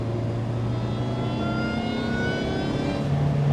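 A supercharged Opel Speedster 2.2 pulls hard under acceleration, its engine note holding a steady loud drone with a rising whine over a few seconds, heard close without speech.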